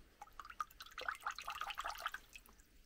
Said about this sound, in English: Again, just going to give it a rinse off again.